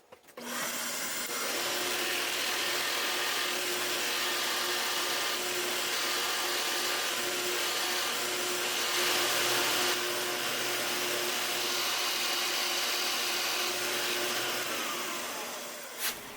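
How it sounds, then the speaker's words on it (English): Power drill boring holes into wooden stool legs in a workshop, a steady loud whine with a constant hum that runs unbroken for about fifteen seconds before trailing off. "So we'll get these things drilled out."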